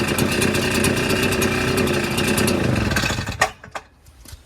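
A smoky two-stroke engine idles steadily after being revved, a loud, continuous buzzing drone that suddenly drops away near the end, leaving a few faint clicks and quiet background.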